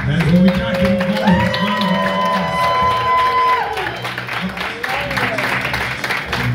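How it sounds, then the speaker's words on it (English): An audience at a costume contest claps and cheers throughout, a dense crowd wash under overlapping voices and a few sustained sung or shouted tones. "Round of"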